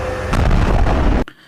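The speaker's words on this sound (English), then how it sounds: "I want to know what kind of balloon they are using to make this explosion." A loud, dense explosion roars and crackles with several sharp bursts inside it, then cuts off abruptly into near silence.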